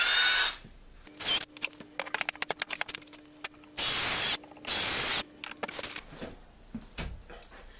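Power drill driving screws into wood while building a box, several short whirring bursts with clicks and ratcheting between them, close and fairly loud.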